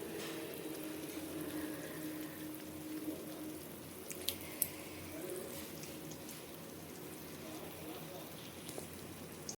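Moong dal kachoris fry in hot oil until crisp, giving a soft steady sizzle and bubbling with a few small pops and clinks, fairly quiet throughout.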